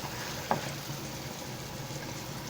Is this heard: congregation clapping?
no